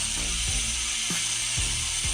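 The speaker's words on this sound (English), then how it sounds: "One of the best sounding hubs in my opinion." Rapid, steady ratcheting clicks from a Profile Elite bicycle rear hub freewheeling on a custom Elite Skyway TA 24-inch build, close and continuous with a faint periodic thump as the wheel turns, no voices.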